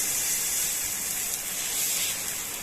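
Adai dosa batter made from lentils with small onions sizzles on a hot pan, a steady close hiss running evenly throughout with no voices.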